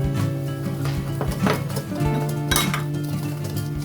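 Dry cake ingredients (flour, salt, baking powder, sugar) for a lemon chiffon cake mixed in a bowl, with close, continuous clinking and scraping of a utensil against the bowl, no voices.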